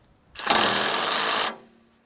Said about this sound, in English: So we got the impact driver, and that should be able to snug it up a little bit more.